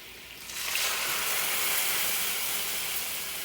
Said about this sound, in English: now the butter's still warm, and I'm going to add the cognac